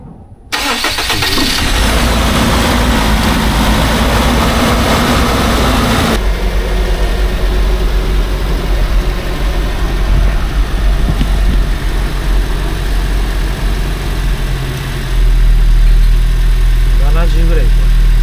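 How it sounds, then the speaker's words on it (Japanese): A car engine cranks and catches, revving loudly at first, then settles into a steady idle rumble that persists until the end. "ちょっとエンジンかけるよ。"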